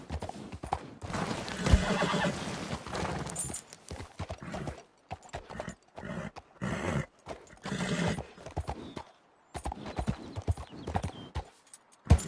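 Horse hooves in the video game Red Dead Redemption 2, clear rhythmic clip-clopping with a whinny, hoofbeats coming in uneven bursts between short pauses, fairly quiet overall.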